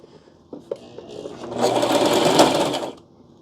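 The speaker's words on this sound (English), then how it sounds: "I'm putting my foot on the presser foot, y'all." A sewing machine run by its foot pedal, a few short stitching bursts and then a steady, loud whirring run of about a second and a half that stops abruptly.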